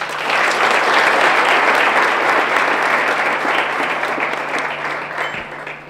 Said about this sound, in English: May we please have another round of applause?